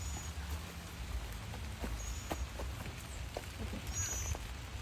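Rain patters in a vegetable garden, light scattered drops ticking over a soft steady hiss with a low rumble beneath, moderately quiet and without clear talk.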